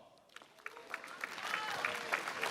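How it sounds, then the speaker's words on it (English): Applause builds from scattered claps into a steady, dense round of clapping from a crowd, fairly distant and growing louder. "Y'all give a round of applause."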